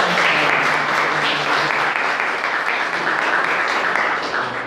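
A church congregation claps and applauds steadily and loudly throughout, a dense continuous wash of hands at close range with no talk over it.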